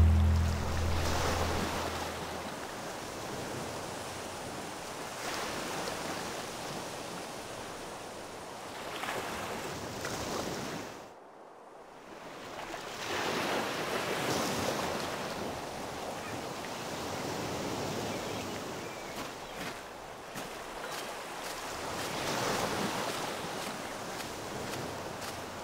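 Ocean waves in the game Reprobates wash and surge continuously in long swells, broken by a brief lull before rising again, with a soft wind-like hiss throughout.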